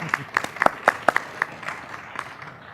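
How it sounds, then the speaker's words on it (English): Scattered, uneven clapping from a small audience at an industry and education presentation: a handful of sharp, distinct claps up close that thin out and fade within a few seconds. "I think it deserves a round of applause for Reg and Sarah"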